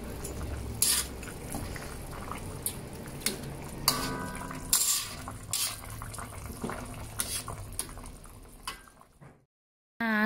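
Cooked Aceh-style shrimp stir-fry is scraped from a pan into a bowl, with soft clinks of a utensil against metal, light sizzling and wet shuffling that fade to silence near the end.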